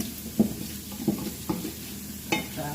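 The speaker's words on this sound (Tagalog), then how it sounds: "At habang nakaprito naman ang aking mga veggies." Vegetables fry in a pan while cooking maqluba, a steady sizzle broken by four sharp stirring scrapes and knocks against the pan, close and clear.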